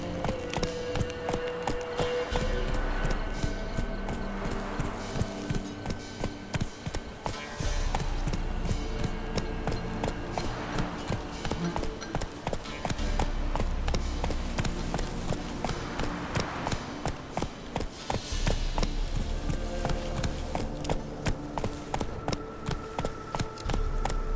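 Steady clip-clop of horse hooves at a brisk trot in The Witcher 3, continuous and close, over a busy game soundscape with faint background noise.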